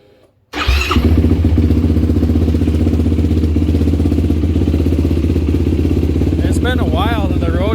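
2023 Yamaha YFZ ATV fitted with a Vortex ECU, starting abruptly after a quiet moment and then holding a loud steady rumbling idle, with a voice heard near the end.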